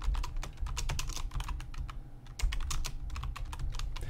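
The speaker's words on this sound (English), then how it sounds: "Then for each class, we can type in a description." Rapid, close typing on a computer keyboard entering a course description, a steady patter of key clicks with a brief pause midway and no talking.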